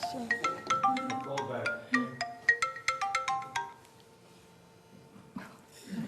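A cell phone ringtone trills loudly in a lecture hall, a bright repeating melodic pattern of quick tones lasting a few seconds before it stops, followed by quiet room noise and a faint voice.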